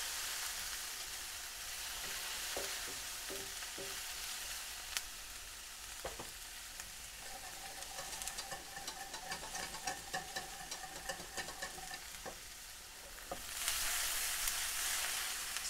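Onions frying in a hot pan for a Dukan béchamel and egg-white wrap recipe, a steady, moderately loud sizzle with occasional clicks of stirring and a louder hiss surge near the end, no talking.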